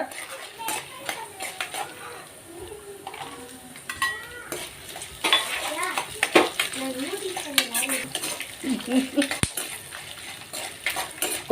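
Ginger-garlic paste stirred in a pan over low heat for coriander chutney, with frequent clinks and scrapes of a spoon against metal and a light sizzle, under intermittent talking.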